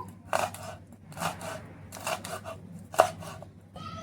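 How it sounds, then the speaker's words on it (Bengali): Four green chillies being chopped finely with a knife, a few distinct chopping bursts spaced about a second apart, moderately close over a low steady hum, with no talk. "এখানে 4টে কাঁচা লঙ্কা নিয়েছি, এগুলো একদম ছোট ছোট করে কেটে নেব"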